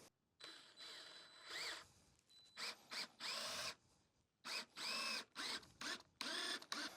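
Power drill driving Holz self-drilling screws into deck boards of an octagonal gazebo floor, heard as repeated loud whirring bursts of varying length with short pauses between them, close by and without talk.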